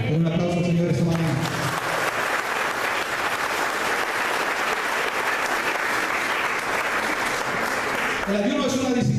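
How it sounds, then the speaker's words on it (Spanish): Church congregation applauding during a morning service, a dense, loud burst of many hands clapping sustained for several seconds, with a voice speaking briefly at the start and again as the clapping ends. "Un aplauso al Señor esta mañana."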